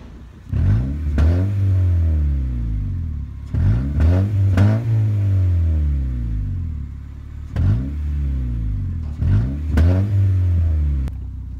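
A Honda Civic engine with its muffler tip removed revs hard four times in bursts, each roar climbing then falling back to a rough idle, loud and close.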